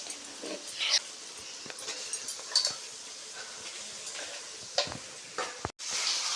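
Chicken frying in a pan while being stirred: a steady soft sizzle with scattered scraping and clinking of the spoon, close and fairly quiet throughout.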